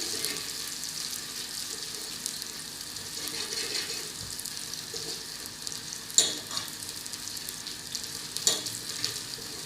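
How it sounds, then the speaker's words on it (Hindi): Onions frying in a pan until golden for saag gosht, a steady close hiss and sizzle with occasional clinks of a spoon stirring, no voices over it. "प्याज को हमने अच्छा सा गोल्डन सा कलर देना है।"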